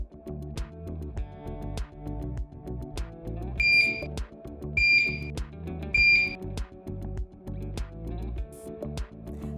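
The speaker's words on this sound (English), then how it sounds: "Pump will have a series of 3 beeps and self-check screens." An infusion pump gives a series of three high, clear electronic self-check beeps over a loud, busy background of music or machinery.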